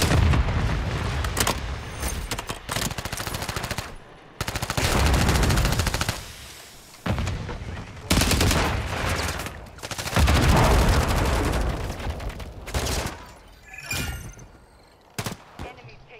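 Rapid automatic gunfire in an online shooter match, loud dense bursts of rattling shots and booms that cut in and out with short gaps, with occasional voices underneath.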